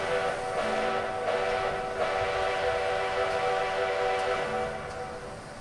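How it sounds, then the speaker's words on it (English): A steam engine's whistle blows long and loud in a snowy setting, a sustained, steady tone that holds nearly the whole time before easing slightly at the end. "The engine blew his whistle long and loud."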